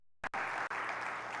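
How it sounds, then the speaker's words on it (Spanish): A church congregation applauds its worship group, a dense burst of clapping that starts after a short silence, breaks briefly, then carries on steady and fairly loud. "Vamos a dar un aplauso a nuestro grupo de alabanza"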